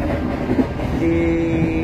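The Sri Tanjung passenger train runs near Surabaya, Indonesia, with a loud, steady rail rumble close by and a sustained tonal whine rising over it in the second half.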